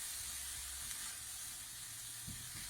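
Onions, tomatoes and curry paste with a little water frying gently in a pan, giving a steady soft sizzle and hiss at low level with no talking over it.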